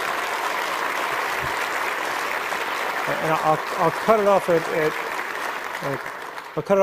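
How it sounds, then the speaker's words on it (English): A conference audience at a keynote fireside chat gives steady, broad applause that fills the room, and a voice starts talking over it about halfway through as the clapping thins out. "So please give us a round of applause."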